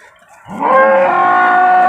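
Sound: cow at a cattle market

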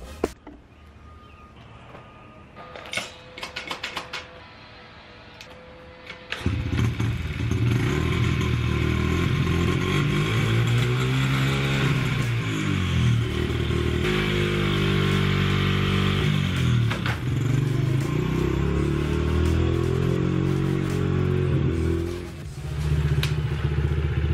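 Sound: dirt bike engine starting and revving

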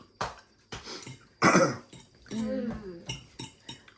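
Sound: man coughing

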